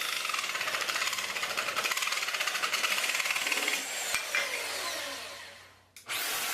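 A Bosch jigsaw fitted with a jigsaw blade cutting, a loud, close buzzing rasp that holds steady, eases off and pauses briefly before starting up again.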